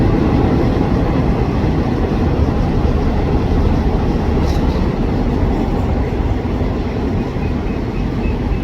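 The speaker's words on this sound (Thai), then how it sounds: "ขบวนที่ 2 ที่จะได้กลับมาใช้สะพานจุฬาลงกรณ์นะครับโดยพิเศษ40 ออกจากสถานีราชบุรีมาแล้วครับ" Special express train 40 crossing the Chulalongkorn railway bridge out of Ratchaburi, a loud continuous rumbling roar of rolling wheels that stays steady throughout, without talk.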